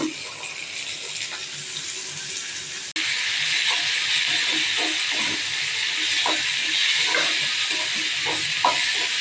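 A sudden burst of loud hissing sizzle as chopped carrots hit a hot frying pan, continuing steadily with small crackles and pops.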